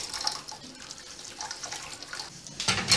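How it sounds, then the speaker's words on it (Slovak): Water is poured from a cooking pot of spaghetti into a kitchen sink, a steady splashing rush that swells louder near the end. "vodu vyleješ preč"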